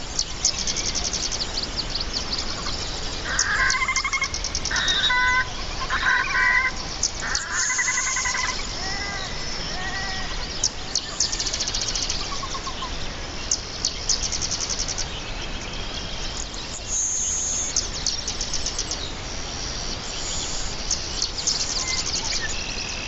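Marsh soundscape with red-winged blackbird calls, a scatter of repeated chirps and trills from several birds over a soft, continuous outdoor background, with no talking.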